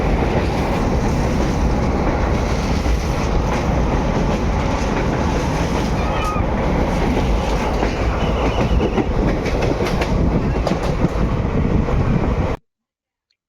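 On board a train travelling from Kurnool to Mahbubnagar, there is a loud, continuous rumble with rhythmic clickety-clack and wind buffeting the microphone, running steadily until it cuts off abruptly near the end.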